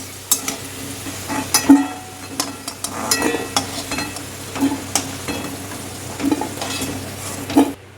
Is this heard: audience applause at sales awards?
no